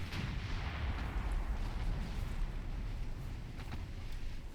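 A warship fires torpedoes during a naval battle in Ultimate Admiral Dreadnoughts, heard within a continuous deep, heavy rumble of launches and gunfire that runs without a break and without any talking.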